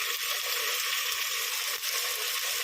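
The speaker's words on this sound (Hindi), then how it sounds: "पहले प्याज में डालूँगी मैं, और इनको अच्छे से फ्राई करूँगी प्याज में।" Soaked black chickpeas fry in onions in a hot pan, giving a steady, close hissing sizzle with faint crackles throughout, no voices.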